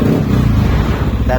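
Yamaha NMAX V2 scooter engine with a battery that drains at idle gives off a dense, loud low rumble as it is revved, and someone talks over it throughout.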